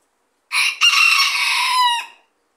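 A backyard rooster crows once, a loud, close, sustained cock-a-doodle-doo lasting about a second and a half, alone with no talking.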